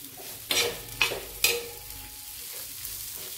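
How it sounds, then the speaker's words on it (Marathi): Spoon stirring fried potato chutney (kharda-style batata chutney) with finely chopped coriander in a pan, heat off: three brief scraping strokes near the start, then a soft, quiet hiss with no talk. "यावर भरपूर अशी बारीक कट केलेली कोथिंबीर, गॅस बंद केलेला व्यवस्थित असं मिक्स करून घ्यायचं"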